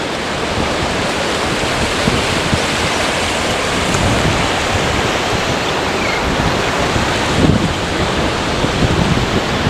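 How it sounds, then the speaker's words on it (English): Waves wash in at the ocean shoreline of Wildwood, New Jersey, a loud continuous roar of surf mixed with gusting wind noise on the microphone. "so now we're down at the shoreline here at Wildwood."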